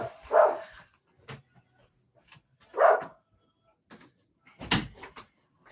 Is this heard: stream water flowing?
no